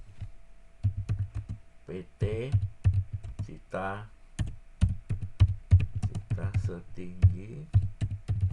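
Keys clatter on a computer keyboard as a letter is typed, in irregular bursts of crisp clicks with short pauses, while a person speaks over the typing.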